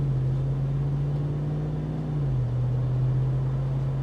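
A Jeep Wrangler Rubicon 392 with its V8 hums steadily at low revs while driving, heard from inside the cabin as a smooth, even drone that dips slightly in pitch midway, with no talking.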